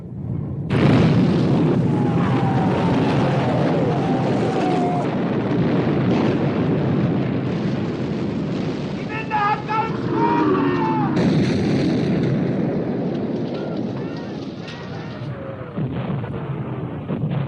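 Naval artillery from a 1960 war film: heavy gunfire and booming blasts rumble steadily and loudly, with whistling shell tones and battle noise layered throughout.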